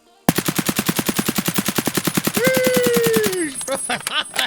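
An AKM rifle in Escape from Tarkov fires a rapid full-auto burst of US rounds, about two dozen evenly spaced loud shots, followed by a rising tone and clattering after the burst ends.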